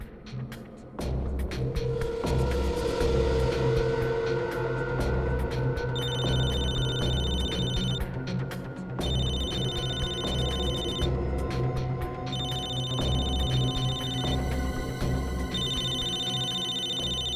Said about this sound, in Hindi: दया इसके मोबाइल पे क्यों फोन कर रहा है?